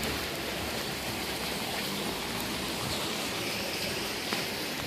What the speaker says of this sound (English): There's some blowing rain right now.